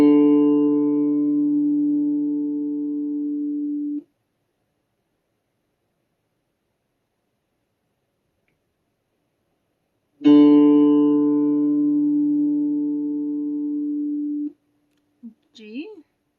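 A sustained pure tone pitched at D for perfect pitch ear training, played twice in long steady holds of about four seconds each, separated by silence, with a brief quiet voice-like blip at the end.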